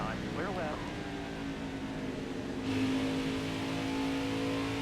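A NASCAR stock car engine roars steadily down the back straightaway at Darlington in the NASCAR Heat 5 racing game, a loud continuous drone that swells in pitch and intensity about halfway through, with a brief voice murmuring near the start.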